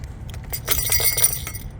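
Light metallic jingling and clinking, a brief cluster of bright chimes over a low rumble, fairly close.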